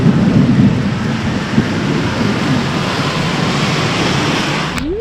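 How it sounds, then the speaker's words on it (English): Heavy rain roars steadily with a deep, rolling rumble of nearby thunder underneath, loud and continuous throughout. "And the thunder and the lightning is quite near actually."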